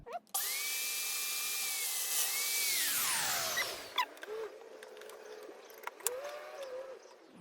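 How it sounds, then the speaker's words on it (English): A domino joiner spins up loudly and plunge-cuts mortises into clamped wooden rails, its high whine holding steady, then dropping in pitch as it winds down and stops, followed by a couple of shorter quieter bursts and light handling clicks. "And I'm going to clamp them down and plunge them in."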